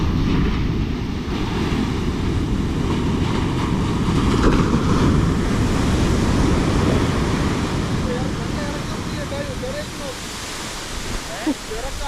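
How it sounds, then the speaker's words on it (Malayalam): Rough morning sea surf breaking on a beach during ultra-light fishing, a steady loud wash of crashing waves and roaring water that continues throughout with wind buffeting the microphone. "ഈയിടങ്ങളിൽ രാവിലത്തെ കടൽ ഇത്രയും രൗദ്രമാവുന്നത് വിരളമാണ്."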